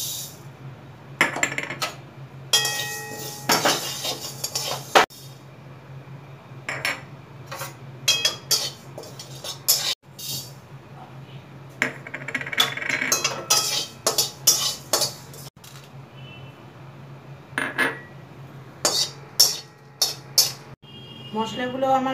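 Whole spices dry-roast in a pan for a sweet and sour raw mango pickle. A metal spatula scrapes and clinks against the pan in irregular bursts over a low steady hum.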